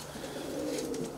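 Racing pigeons coo in a low, soft, rolling murmur, faint and steady over a brief stretch with no one speaking.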